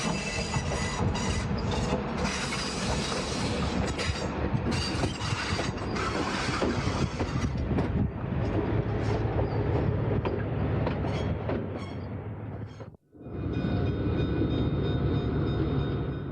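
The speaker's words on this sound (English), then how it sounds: "The crowning jewel of the diesel collection is not a locomotive, but an entire train," The Nebraska Zephyr, a streamlined diesel train set built in 1936, runs at an Illinois railway museum, a steady loud rumble with wheel clatter and squeal throughout, a brief dropout near the end before the roar resumes.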